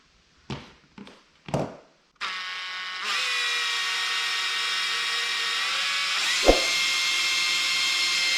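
A few short knocks, then a power drill whirs steadily at high speed into a polyethylene softboard, briefly dipping with a thud partway through before spinning on.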